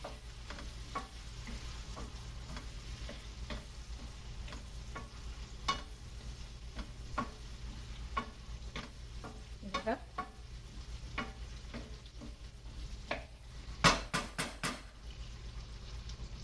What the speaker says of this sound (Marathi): त्या तुम्ही कांद्याबरोबर छान अशा तेलात परतवून घ्यायच्या